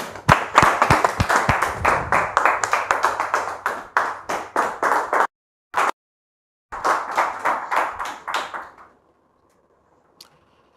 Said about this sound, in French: nous la recevons avec beaucoup de ferveur, beaucoup de joie, beaucoup d'enthousiasme par nos applaudissements